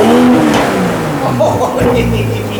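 A BMW G20 M340i LCI straight-six engine revs hard from idle, a loud rising-and-falling roar up close with people talking over it throughout.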